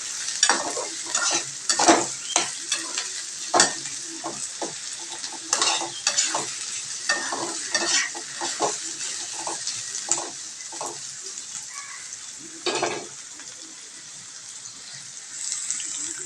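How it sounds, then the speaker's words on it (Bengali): A spatula stirs ghugni of peas and potatoes in hot oil, giving repeated scraping strokes over a soft sizzle, close and steady with no voices. "এখন ছানটার সাহায্যে ঘুগনি নাড়িয়ে নেবো"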